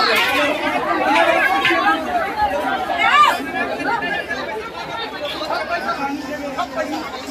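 Dense crowd chatter fills the Salmari Monday bazaar in Katihar, Bihar: a steady, close hubbub of many overlapping voices, with one louder voice rising briefly near the middle.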